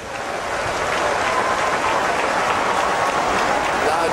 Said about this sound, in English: Loud applause for Joyce Banda